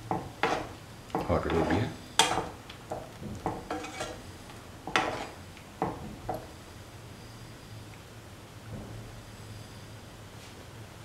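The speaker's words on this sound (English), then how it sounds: "Mix them thoroughly so that the coconut milk is nicely incorporated into the ash gourd and the black-eyed beans" A spoon scraping and knocking in a pot of coconut milk, ash gourd and black-eyed bean stew, giving irregular close clinks and clatters that thin out toward the end, with a brief spoken word.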